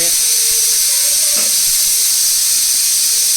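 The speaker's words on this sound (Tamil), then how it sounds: "ரெண்டாவது விசில் வந்துடுச்சு." A pressure cooker cooking chicken biryani vents steam in a loud, steady hiss that runs throughout, with a faint whistling tone rising briefly early on.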